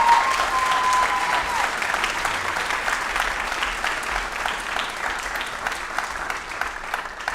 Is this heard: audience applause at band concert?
yes